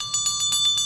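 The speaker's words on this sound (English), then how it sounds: "I usually ring a bell" A ringing bell opens a ceremonial session, sounding a quick run of bright, evenly spaced metallic strikes with sustained shimmering overtones, close and clear, with no voices.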